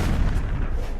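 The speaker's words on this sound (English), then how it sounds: "That explosion was way too big." A big explosion in the Iron Man 2 video game: a dense, sustained low rumble with rolling booms that stay loud and steady throughout, with no speech.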